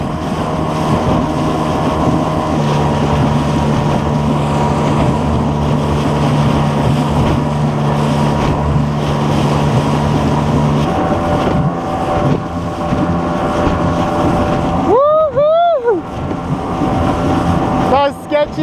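A motorboat cruises at about 17 knots across choppy water, its engine a steady loud drone mixed with wind buffeting the microphone and hull slapping, continuous throughout with a short tonal squeal near the end.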